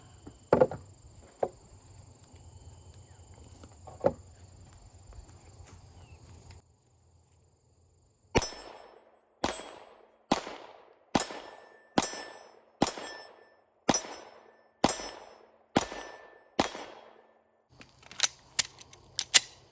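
An FN 9 pistol fires at steel targets on a range: after a few scattered bangs and a pause, a steady string of about a dozen sharp shots follows, each ringing with a metallic clang.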